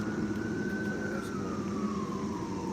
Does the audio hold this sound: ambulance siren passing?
yes